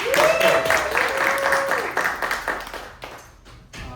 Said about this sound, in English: give you guys yourselves a round of applause for making it out on a rainy Thursday.